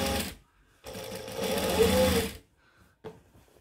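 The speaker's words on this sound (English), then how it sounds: "I'm just going to stitch like an eighth of an inch from the seam, making sure that I'm tacking down all of the seam allowance underneath." A sewing machine stitching along a dress seam to tack down the seam allowance runs in short loud bursts, one brief and one longer steady whir, with quiet gaps and a faint tap between.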